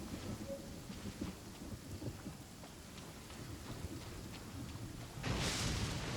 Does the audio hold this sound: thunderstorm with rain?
yes